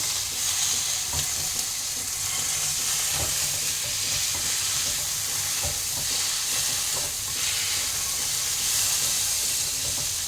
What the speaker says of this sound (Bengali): পোস্তটা দিয়ে এর সাথে একটু কষে নেব